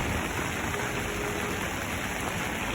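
Rain falls in Hong Kong as a steady, dense hiss that covers the whole stretch evenly, with no talking.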